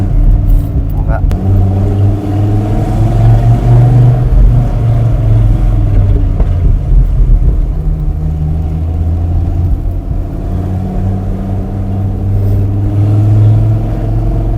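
Dodge Viper SRT10 engine rumbling close by, a deep, steady low burble with slight swells in revs throughout, while people talk over it.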